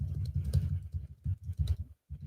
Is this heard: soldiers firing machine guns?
no